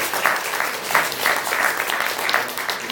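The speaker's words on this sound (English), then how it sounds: "Now that we have all that clapping energy out of our system" Audience applause after a candidate's speech about moving California forward, a steady wash of many hands clapping that fills the whole stretch with no voice on top.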